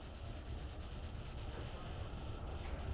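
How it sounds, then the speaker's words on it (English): Steady rhythmic rubbing of an edge file being sanded flat, the back-and-forth strokes clear for about two seconds before the scraping softens and fades into quieter handling. "we'll just keep sanding that away, removing a bit more material through the center"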